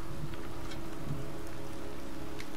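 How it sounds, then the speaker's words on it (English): Rain falls steadily outdoors in the video game Heavy Rain, a dense, even hiss of drops with faint splashes and a low rumble underneath. The sound continues unbroken throughout at moderate volume, with no speech. "It's cold. It's raining. I'm standing outside getting soaked."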